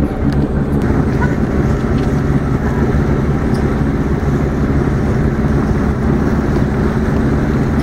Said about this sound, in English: So we're turning on the motors.